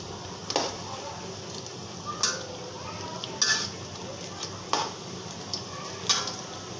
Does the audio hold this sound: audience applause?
no